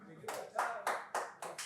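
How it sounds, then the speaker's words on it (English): Hands clap in a slow, even rhythm at a policy panel on industrial defense and autonomous weapons, five or six distinct claps sounding close in a quiet room while a voice speaks. "hang on with the applause"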